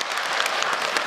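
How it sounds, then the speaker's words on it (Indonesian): Women in the audience at a majelis taklim religious gathering clap together in a short, steady burst of dense applause, moderately loud with no talk over it. "Tepuk tangan ibu-ibu."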